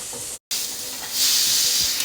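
Onions frying in a pan with salt and a pinch of turmeric give a steady hiss, with a brief dropout early on before the sizzle swells louder and brighter.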